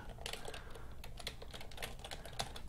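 Rapid computer keyboard typing while an email address is entered, a steady run of close, crisp key clicks with no talking.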